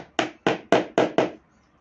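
Five sharp, evenly spaced knocks of furniture parts driven into wood without a hammer while assembling a console table, close and loud, then quiet.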